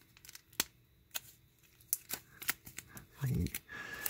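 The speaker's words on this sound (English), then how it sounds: "Get the team set bag open here without seeing who's in here." A plastic team-set bag of baseball cards being handled and opened, with soft crinkles, ticks and sharp tearing pops scattered through a quiet room, ending in a louder rustle.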